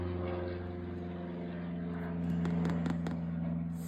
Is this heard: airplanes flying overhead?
yes